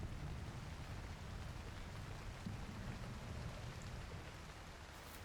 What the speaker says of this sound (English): Now it's raining, so we can't climb anyway.